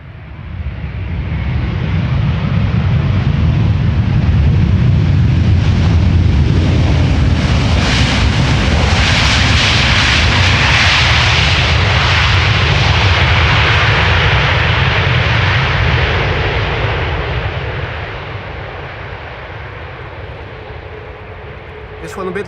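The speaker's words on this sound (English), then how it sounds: "And of course, Delta landing here" A Delta Airlines jet arriving at Schiphol airport rumbles loudly as it lands, a broad roar swelling for several seconds with the thrust reversers engaged, then easing off near the end.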